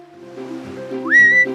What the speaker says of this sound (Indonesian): Duyung Arya naik ke geladak kapal dan bersiul memanggil sahabat-sahabatnya di laut.